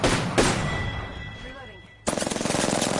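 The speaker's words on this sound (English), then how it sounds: "Firing." Rapid automatic gunfire from Apex Legends, loud and close, in a burst that fades into decaying echoes before a second dense volley of repeated shots starts up; a voice talks briefly over it.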